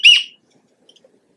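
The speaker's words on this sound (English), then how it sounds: "And also this keychain happens to be a whistle." A shrill keychain whistle gives one short piercing blast, loud and close, then stops dead and leaves near silence.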